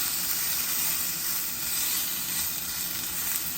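Pomfret fish fries in a little oil, giving a steady, loud, close sizzle and bubbling hiss with no pauses or talk.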